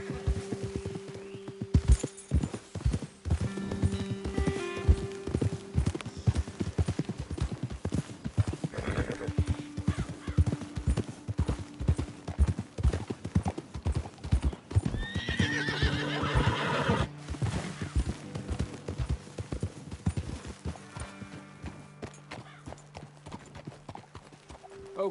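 Horses in Red Dead Redemption 2 clip-clopping in a rapid, uneven trot with several loud whinnies and neighs breaking through, close and continuous, with occasional voices speaking.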